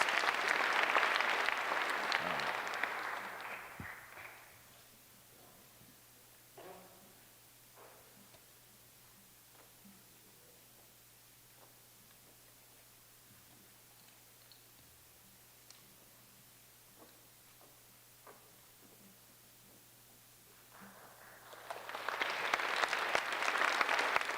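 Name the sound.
audience applause for the Bailey Lake Scholars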